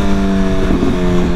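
A BMW S1000RR motorcycle engine on a ride through Manhattan, New York City, holding a loud, steady, close drone with strong harmonic tones that rise slightly partway through.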